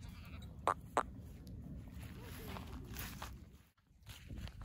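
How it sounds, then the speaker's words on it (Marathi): Osmanabadi goats grazing on a hillside let out two short bleats in quick succession over a steady outdoor background. "शेळ्या पण बघा कशा आहेत."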